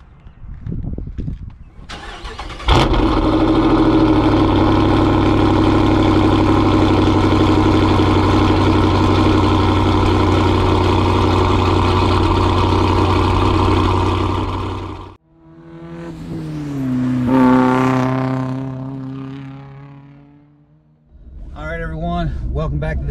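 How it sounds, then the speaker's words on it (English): A car engine catches on a cold start, with a rising whine before settling into a steady idle, then briefly revs again, running loud and close throughout without talk. "And here we go for the cold start."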